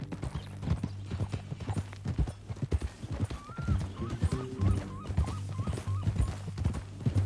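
Horse hooves clip-clop steadily while a horse whinnies, with a rhythmic trotting pattern under a low background hum.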